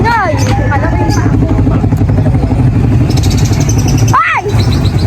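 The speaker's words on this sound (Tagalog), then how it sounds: "Ang ingay naman ng mga motor." Motorcycles roar past on a road at sunset, a busy continuous engine drone with passing whooshes and revving, heard close under excited chatter and street noise.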